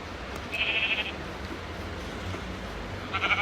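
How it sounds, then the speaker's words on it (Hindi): Sheep bleat twice, thin and fairly close, once near the start and again at the end, over a steady outdoor hiss. "यहाँ भी बहुत सारे भेड़ हैं।"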